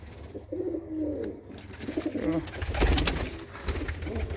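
Racing pigeons from a Gurdaspur loft coo close by in soft, repeated throaty bursts that rise and fall, with a few low murmurs of voices in the background.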